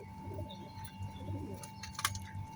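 Omani pigeons in a loft, soft repeated cooing close by with a few light chirps and rustles, no talk.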